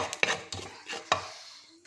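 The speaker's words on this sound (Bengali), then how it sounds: "পাঁচফোড়নটা একটু ভাজা ভাজা করে নিচ্ছি" Panch phoron spices are stirred as they fry in a pan, with three or four quiet, sharp scrapes against the metal and brief crackle between them.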